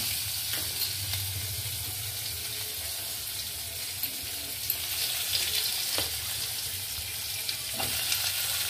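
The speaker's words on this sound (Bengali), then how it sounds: "এবার দেওয়া হচ্ছে পেঁয়াজ। পেঁয়াজ কুচিয়ে যেটা রাখা হয়েছিল সেই পেঁয়াজ দেওয়া হচ্ছে।" Chopped onions go into hot oil with five-spice and fry with a steady, even sizzle that holds throughout, with a few faint clinks of stirring over it.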